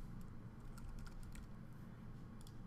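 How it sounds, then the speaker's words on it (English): Fingers typing on a computer keyboard, light irregular clicks spread through the moment over a steady low room hum, fairly quiet with no talk. "Failed because of my fine typing skills."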